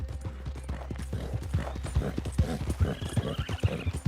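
A horse gallops in Red Dead Redemption II on an eerie night ride, steady rhythmic hoofbeats pounding close and loud throughout, with a faint whinny-like tone drifting in near the end.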